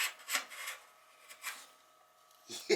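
A Japanese hand plane is pushed across wood in a few short, faint rasping strokes, spaced unevenly with quiet gaps and a sharper scrape at the end.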